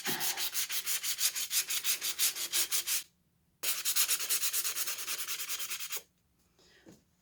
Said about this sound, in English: So I'm going to keep on sanding and get it down so that the black shows through better